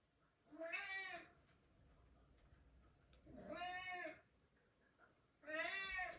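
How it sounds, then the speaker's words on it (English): A house cat cries at night with three long, drawn-out meows spaced a few seconds apart, fairly close, in a quiet room. "Is your cat crying all night?"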